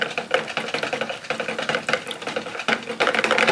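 A whisk stirs a soap mixture in a bowl, giving quick, steady clicking and scraping strokes in a fast repetitive rhythm, close and moderately quiet with no talk.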